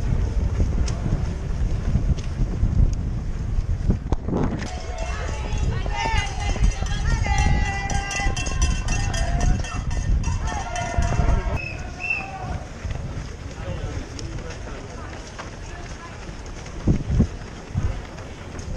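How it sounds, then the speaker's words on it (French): Strong gusts buffet the microphone during a 10K road race in Paris, a constant low roar over running footsteps, while people talk through most of it. "y a du vent."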